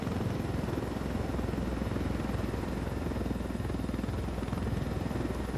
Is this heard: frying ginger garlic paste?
no